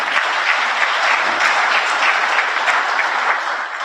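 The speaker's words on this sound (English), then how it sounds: "Can we clap for it?" An audience at an ICT association event with Zambia's president bursts into sustained applause, a broad, loud, even crackle of many hands that holds steady before easing slightly at the end.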